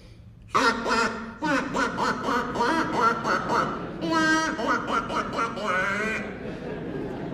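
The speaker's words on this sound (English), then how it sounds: "Next to the boats were some ducks swimming around" Ducks swimming beside boats quack loudly and repeatedly in a busy, overlapping chorus, nearby and continuous for several seconds.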